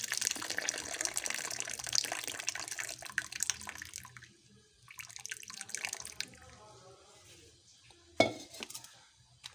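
Hot milk being poured from above into homemade milky coffee, a close watery splash and trickle that thins out and then stops, followed by a sharp clink of a utensil or cup.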